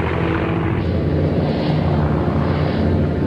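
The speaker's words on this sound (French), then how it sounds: "Ils attendent l'hydravion, la merveille technologique venue d'Allemagne." Aircraft engines of the Dornier Do X flying boat give a loud, steady, low droning roar with no break, heard alone without any voices.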